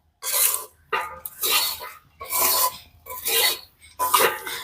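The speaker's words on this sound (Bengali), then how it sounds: "এইরকম ভাবে খইটাকে মিশিয়ে নিতে হবে" Puffed rice (khoi) mixed by hand while making Joynagar moa, loud close rustling and rasping in five sweeping bursts with short pauses between them.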